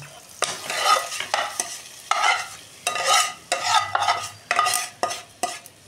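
Hot tempering oil crackles and sizzles in bursts as it is poured into mutton keema khichuri, with repeated stirring scrapes in a rhythmic pattern, close and fairly loud.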